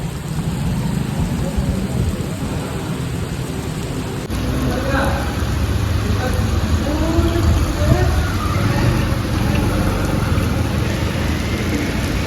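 Heavy rain with thunder pours down steadily in a loud, dense wash, with low rolling rumbles underneath and faint muffled voices partway through.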